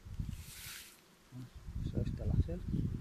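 A low buzzing hum of honeybees swarming out at beehives in a summer heatwave, faint and close, heard beneath someone speaking.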